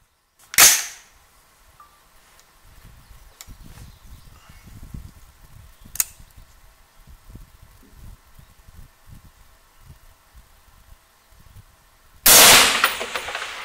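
A rifle shot cracks sharply, a distant impact tick follows on a 546-yard shot, and a second loud report bursts near the end, with quiet rustling in between.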